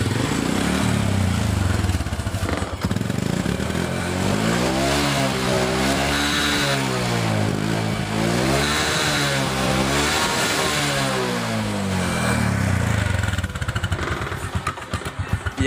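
A Honda Karisma motorcycle with a fuel-hungry carburetor fires up and runs loud and close, its pitch rising and falling through several revs before settling back to a rough idle, black smoke puffing from the exhaust.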